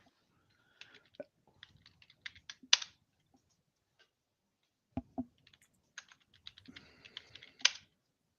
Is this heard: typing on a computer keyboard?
yes